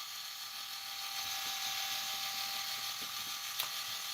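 A small rod dryer motor turning a custom fishing rod on a drying rack, a steady, even mechanical whir with faint periodic ticks, continuous and alone.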